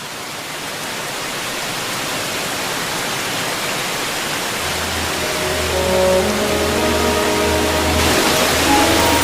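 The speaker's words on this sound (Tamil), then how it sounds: "அருவினா உனக்கு ரொம்ப பிடிக்குமே, அதான்." A waterfall roars as a dense, steady rush of water that grows slightly louder, while a low musical drone and tones come in partway through.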